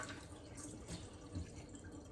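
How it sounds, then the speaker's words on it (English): Water drained off soaked sea moss runs and trickles steadily, with dripping and splashing like liquid pouring off into a sink, continuous and fairly close. "Drain off our water."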